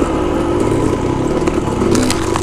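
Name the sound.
Yamaha YZ dirt bike engine on forest trail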